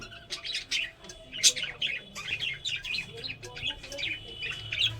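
Pet birds in a cage give a steady run of bright, quick chirps and occasional squawks, close by and fairly loud, with faint voices in the background.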